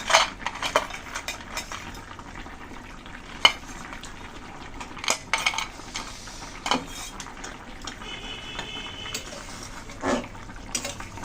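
Pumpkin badi frying in a pan for a koi fish curry with gourd and potato, a steady low sizzle and bubbling under repeated sharp spatula scrapes and clinks against the pan.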